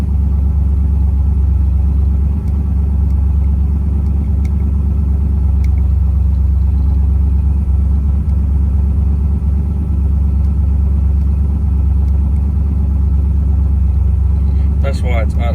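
A hot-rodded vehicle engine runs at a raised idle with a steady, loud, low rumble that holds even throughout, with a faint clatter near the end.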